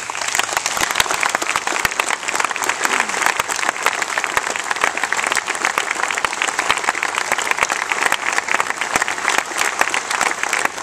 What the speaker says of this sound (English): Please rise, orientation leaders, and accept our applause in our appreciation.